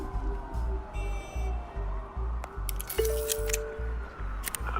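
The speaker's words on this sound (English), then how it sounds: "There are quite a few police cars convening on your location." Police car sirens wail in the Batman Telltale video game, steady and mid-distance over a pulsing low rhythmic beat and scattered clicks and effects.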